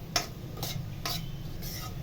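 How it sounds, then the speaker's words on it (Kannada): Semolina stirred in ghee in a pan over medium heat gives four soft scraping strokes, about half a second apart, over a low steady background, fairly quiet with no talking. "ರವೆನ ಫ್ರೈ ಮಾಡ್ಕೊತಾ ಇದ್ದೀನಿ."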